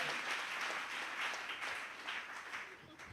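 A church congregation applauds a preacher, with dense, sustained clapping that swells and eases slightly, filling the room from a moderate distance.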